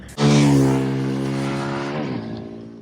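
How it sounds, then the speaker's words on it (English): A Bajaj Pulsar N250 motorcycle engine, 2024 model, revs up sharply at close range, holding a loud, steady droning tone before easing off, with no talk over it. "Revving the engine later on here."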